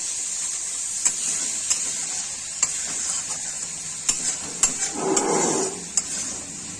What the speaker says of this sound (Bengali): মশলাটা এবার কষে নিব ভালো করে।